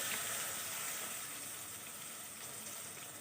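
Onions and chilies fry in a pan with garlic paste, giving a steady, dense sizzle that continues evenly throughout at moderate loudness.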